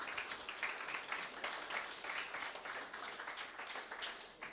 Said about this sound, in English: a round of applause for Cloudflare.